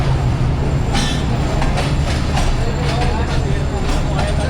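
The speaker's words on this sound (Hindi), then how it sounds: "48 डाउन रहमान बाबा एक्सप्रेस वज़ीराबाद जंक्शन पहुंच गई है" The 48 Down Rahman Baba Express, hauled by a ZCU20 locomotive, pulls into Wazirabad Junction with a loud, continuous close-up rumble and intermittent wheel clatter, while voices murmur faintly underneath.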